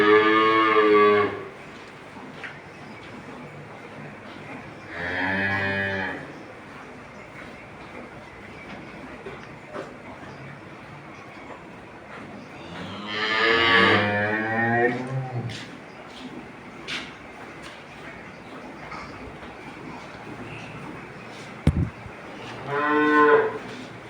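Loud, harmonic moos from Holstein Friesian dairy cows come in four separate bursts spread across the stretch, with quieter farm background noise between calls and a brief sharp knock near the end.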